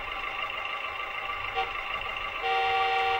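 A small toy car horn honks in a steady tone with a second toot near the end, fairly quiet and close, without talking.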